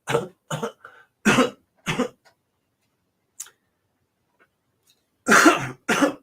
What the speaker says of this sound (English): Yeah, elbow cough.